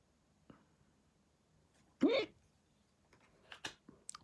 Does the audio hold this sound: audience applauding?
no